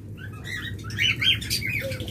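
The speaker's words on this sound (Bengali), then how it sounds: "এরপর যারা ঝাবা পাখি নেবেন, আমাদের কাছে দুইটা কালারে জাবা রয়েছে" Pet java sparrows, lovebirds and budgerigars chirp and tweet from cages at a bird sale, with overlapping bright calls in quick bursts over a low background hum.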